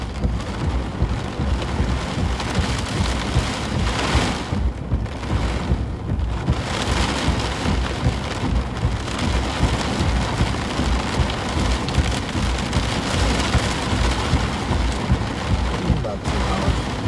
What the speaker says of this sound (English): big rainstorm